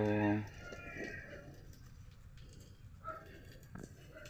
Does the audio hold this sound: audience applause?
no